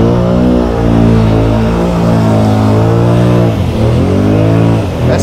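Can-Am 650 XMR ATV on mud tires churns through a thick mud hole, its engine held at a loud, steady high rev with a brief dip and recovery near the end, close and continuous without talk.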